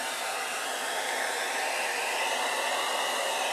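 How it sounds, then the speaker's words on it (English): A hairdryer blows nearby to dry craft paint, giving a steady, loud whooshing roar that holds evenly throughout with no talking. "I think I'm going to dry that with a hairdryer first."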